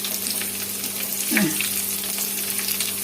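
Steady sizzling of eggplant frying in hot oil, close and continuous, with a brief soft clatter partway through.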